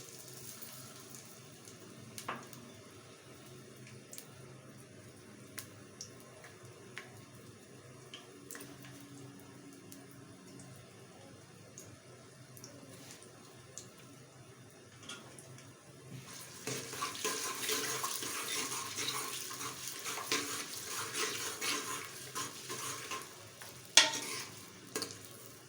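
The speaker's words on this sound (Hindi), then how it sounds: "अब मैं इसमें ये प्याज डाल रही हूँ।" Onions added to a pan for arvi gosht, with quiet clinks and handling at first, then a louder, steady sizzle that swells after the onions go in.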